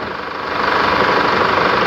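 A Chevrolet Trailblazer engine idles steadily after a new AC compressor refill, a loud, close, continuous rumble with even mechanical knocking and no talk.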